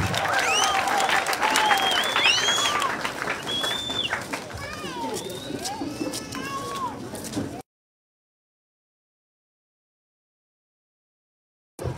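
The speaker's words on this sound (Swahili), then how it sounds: "Wapi makofi ya wao?" A school crowd claps for a students' presentation, with dense, lively applause for several seconds before it cuts to silence, followed by a brief burst at the very end.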